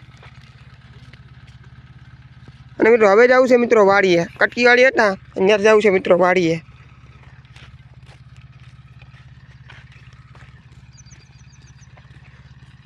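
A tractor engine idles in a steady low throb throughout, continuing under a man's speech for a few seconds and then running alone at a moderate, even level.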